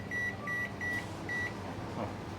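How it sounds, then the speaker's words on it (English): A microwave oven heating vegetables hums steadily over a low fan drone, with a few short electronic beeps repeating at intervals. "chuck it in the microwave for 3 minutes"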